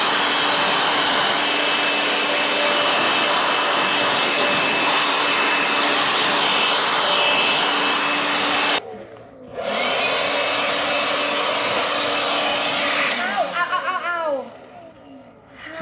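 Battery-powered leaf blower roaring steadily while blowing debris off surfaces, loud and continuous, cutting out briefly then resuming before winding down, with people talking nearby.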